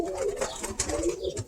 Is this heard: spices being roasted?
no